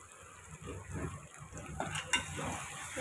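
Chicken being stirred and sautéed in a pan, with soft steady sizzling and scraping stir strokes close by, fairly quiet and without talk.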